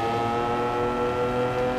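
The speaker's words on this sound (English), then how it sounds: "I want to stop talking because the howl from the exhaust is just so" Lamborghini Aventador exhaust on a racetrack, a loud sustained howling engine note with layered harmonic tones rising and falling slightly as the car holds its speed, with no talking.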